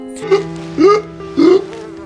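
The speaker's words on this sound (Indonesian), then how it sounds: "Ada sebuah lalat yang masuk ke mulut polisi itu sehingga membuat dia sadar karena tersedak." A policeman in a film chokes and gags after a fly enters his mouth, giving three strained, rising throaty gasps close up over a steady low hum.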